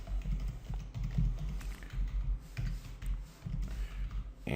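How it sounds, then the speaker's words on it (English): Typing on a computer keyboard, a close, steady patter of key clicks in quick bursts with short pauses, over a low background hum. "So let's type"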